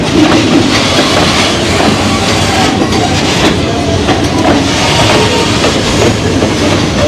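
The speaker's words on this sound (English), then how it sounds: "The passenger train." A Jamaican passenger train rolls past close by, a loud, continuous rumble with rhythmic clickety-clack from the wheels on the rails and a faint hiss, with no voices over it.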